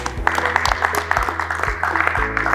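Applause welcoming a guest onto a TV debate set, brisk clapping over a steady rhythmic music bed with a thumping beat, moderately close.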